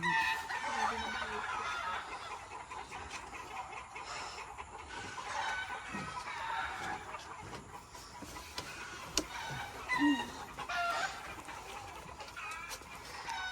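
A rooster crows amid steady background clucking from chickens on a gamefowl breeding farm, with a cluttered farmyard hum throughout and no talk.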